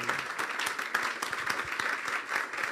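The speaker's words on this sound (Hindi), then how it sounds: "ज़ोरदार तालियां बजाएंगे एक बार फिर" A church congregation at a Good Friday service claps loudly and steadily, a dense run of quick overlapping hand claps with no clear pauses.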